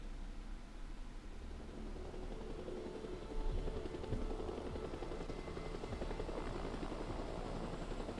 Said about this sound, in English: Who got their hands on a bloody chopper